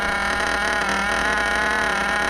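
Engine idling steadily during break-in inside the air-conditioned Woogie Nitro barn, a loud, even mechanical drone with dense harmonic buzz and no breaks.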